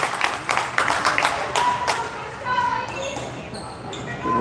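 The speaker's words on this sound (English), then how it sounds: "Good round of applause by the, I don't know, couple dozen Dons fans in attendance" A couple dozen fans at a Columbus Catholic high school volleyball match give a scattered round of applause. The light clapping is strongest early, then thins out beneath a commentator's voice.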